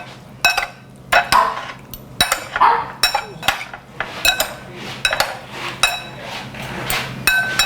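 Metal utensils clink and scrape against a bowl while an Italian-style beet salad is tossed, a steady run of sharp, close knocks and rattles with no talk.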